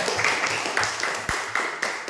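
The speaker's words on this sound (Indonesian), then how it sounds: "tepuk tangan dulu" A classroom of students claps hands in a quick burst of sharp, uneven slaps, close and fairly loud, with a few distinct claps standing out over the group.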